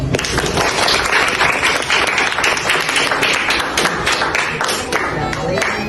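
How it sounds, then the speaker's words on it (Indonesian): Students at a high school maritime-awareness session clap their hands, a loud, close burst of many individual claps in quick irregular rhythm that continues for several seconds. "Tepuk tangan dong."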